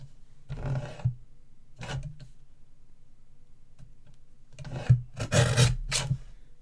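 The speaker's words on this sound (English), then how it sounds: "So let's get our little trimmer in." A small paper trimmer slices through card stock for a springtime tent-fold card, making a few short rasping scrapes with quiet gaps between, the last ones louder and closer together.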